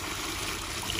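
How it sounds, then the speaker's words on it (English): A toilet flushes in Ecuador near the equator, heard as a faint, steady rush of draining water with a soft trickling hiss throughout one brief moment. "let's see what is happening when we flush the toilet"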